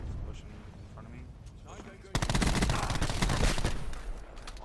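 Daemon 3XB SMG fire in Black Ops 4, a sustained rapid automatic burst that starts abruptly after two seconds and rattles loud and near for over two seconds, with a voice talking over the gameplay.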